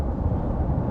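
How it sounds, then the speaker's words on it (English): Early-universe sound waves, decoded and pitched up into audible range, form a steady, dense low rumble. It has a hissy, wind-like texture, holds an even level and lasts under a second with no talk. "What you're hearing now are those actual sounds, decoded by researchers and pitched up to something we humans can hear."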